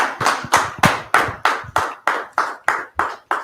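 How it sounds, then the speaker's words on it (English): A congregation in a Harlem worship class claps in unison, about ten sharp, evenly spaced claps at a brisk steady beat, close and clear with no talking. "Clap it up for the class."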